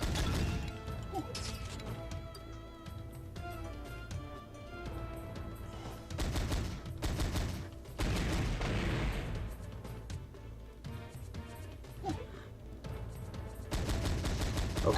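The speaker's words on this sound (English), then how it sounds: "you gotta really just blow them up with the old machine gun" Machine gun fire in the Sega Saturn game Exhumed, bursts of rapid shots and crashing impacts layered over dense game music and effects, loud and continuous for much of the stretch.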